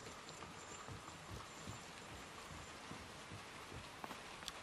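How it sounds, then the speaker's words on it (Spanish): Rain falling on a sheet-metal roof in the pig farm section of the video game Inside, a steady dense hiss of patter with scattered sharper drops, moderately quiet and continuous throughout. "¡Qué rica esa lluvia!"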